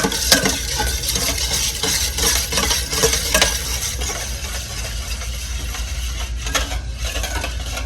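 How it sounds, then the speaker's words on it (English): A whisk rapidly stirs mayonnaise with Worcestershire sauce in a bowl, a steady close scraping and clinking rhythm that runs throughout with no voices. "we're gonna whisk these together until the mayonnaise is smooth"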